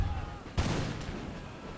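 Infantry musket fire in Empire: Total War, a sharp volley crack followed by a second shot and scattered distant reports over battlefield ambience.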